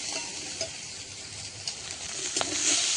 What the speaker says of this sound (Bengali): এদিকে কাঁকড়াগুলো ভাজা ভাজা হয়ে এসছে